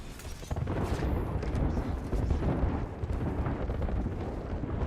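A frag grenade explodes in a shooter game, a broad low boom that swells quickly and rumbles on for several seconds, loud and dense with no distinct separate blasts.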